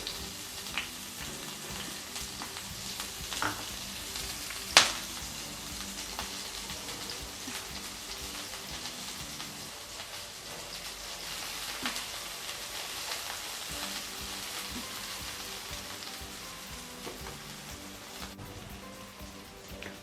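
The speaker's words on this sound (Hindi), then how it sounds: "ऑयल हमारा जैसे ही हल्का गर्म होएगा हम उसमें अपनी कटी हुई वेजिटेबल्स डालेंगे।" Chopped capsicum and carrot frying in hot oil, a soft steady sizzle and crackle with occasional stirring clinks and one sharp knock, quiet and close.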